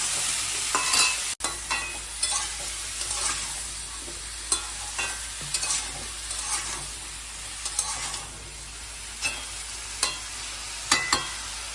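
Pieces of pointed gourd, eggplant, pumpkin, ridge gourd or potato fry in hot oil for a Bengali dish, giving a dense, steady sizzle broken by frequent clicks and scrapes of stirring and one brief knock.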